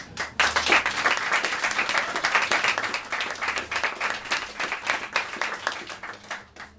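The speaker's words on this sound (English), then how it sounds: "There's a lot of clapping" An audience claps after a poetry reading at an evening event, a dense, sustained burst of applause that stays loud throughout and tapers slightly toward the end.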